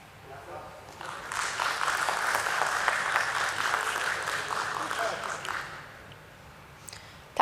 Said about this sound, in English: Let's welcome him on stage with a round of applause once again